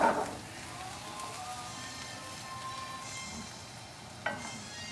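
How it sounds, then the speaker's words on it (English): Butter melting in a pan for Oysters Rockefeller, giving a soft, steady sizzle with faint crackles and a small clatter near the start and again toward the end. "And I put it right inside over here together. And we melt the butter."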